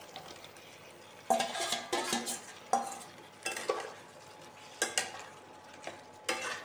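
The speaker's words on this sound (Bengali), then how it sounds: "মশলাটার সাথে আলুটাকে আমি 8 মিনিট কষাবো।" Fried potatoes stir-fried in a spice masala in a pan, with a soft background sizzle and repeated bursts of spoon scraping and clinking against the pan at irregular intervals, close by.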